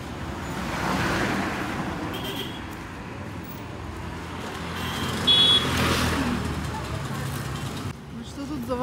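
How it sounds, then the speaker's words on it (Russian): A car drives past on a street in Arambol, a broad rumble of engine and tyre noise swelling and fading over several seconds, with a brief beep-like tone and people talking. "Там машина едет."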